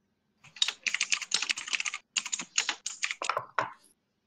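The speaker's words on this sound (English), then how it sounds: "stop that aggressive typing" Fast, forceful typing on a computer keyboard, a dense close burst of sharp clacking keystrokes in rapid runs with a brief pause midway, ending in a few heavier key strikes.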